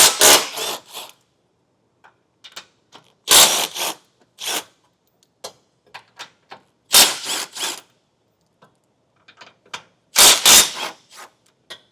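Loud bursts from an impact tool spinning 18mm bumper beam nuts off a 2022 BMW X6, four separate bursts of rattling hammering, each trailed by clicks and small clanks of handling the nuts and tool, with no talking.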